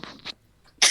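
Someone sneezes nearby, with a short breathy intake, a brief pause, then a sudden sharp burst of air, loud and close.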